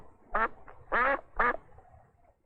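A duck quacks three times, loud and close, each call short and nasal with brief pauses between.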